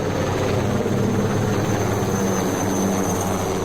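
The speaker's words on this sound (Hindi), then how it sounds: "श्रीनगर से उड़े विमानों ने मुंबई, भोपाल और हैदराबाद में फ्लाई पास्ट किया।" Military aircraft flying past over hospitals produce a loud, steady engine and rotor drone that stays continuous and close overhead for the whole stretch, with no voices.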